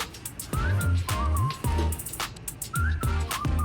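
Bright, melodic whistling carries a tune over a steady backing track in a Thai pop song, with a thumping beat beneath the rising and falling notes.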